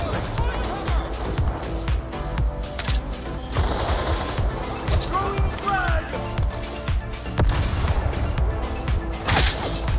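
Rapid bursts of video game gunfire crackle repeatedly over a steady background rumble, with people talking throughout.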